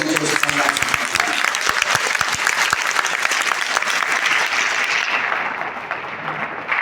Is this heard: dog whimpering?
no